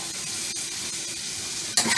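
Steak strips sizzling in a hot pan for fajitas as they are stirred back in, a steady hissing fry with faint scraping, ending in a louder clatter.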